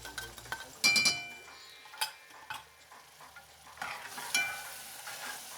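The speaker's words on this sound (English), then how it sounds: "continue to cook the onions until they start to caramelize" Onions cooking in a pan with cinnamon and diced tomatoes, a soft steady sizzle with stirring scrapes and a few utensil clinks against the pan, fairly quiet and close.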